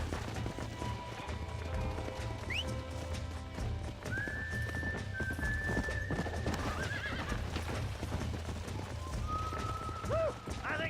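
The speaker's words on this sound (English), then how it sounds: "You get back on your own horse. Giddy up!" Horse in the video game Red Dead Redemption, with hooves clip-clopping in a steady galloping rhythm and several high whinnies rising over the hoofbeats, set against a low rumbling game background.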